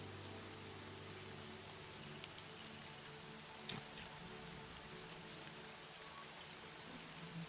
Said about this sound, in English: Is there like a rain noise or something playing in the background? There is. It seems to be raining outside.